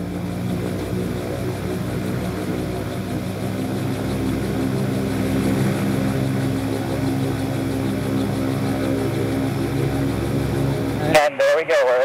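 A gyroplane's engine and pre-rotated rotor spinning up for takeoff: a steady, loud droning hum with layered propeller tones that rises slowly in pitch, ending in a brief thump and cutoff; a voice talks over it.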